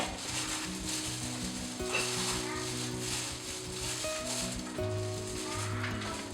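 Fish pieces fry in a pan of hot oil for Vietnamese fish noodle soup, making a constant close sizzle and crackle under tonal background music.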